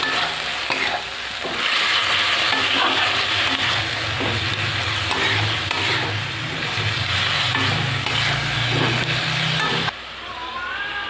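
Khesari greens with chilli, salt and turmeric frying in a pan, a steady close sizzle with stirring scrapes throughout, dropping off abruptly near the end.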